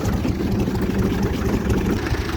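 A tractor engine idling while stopped beside a ploughed field, giving a steady, close, low rumbling throb with no talk over it.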